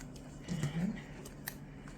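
Scissors snip through paper while an envelope is crafted, a brief close cutting sound in the middle of a quiet stretch with faint handling noise.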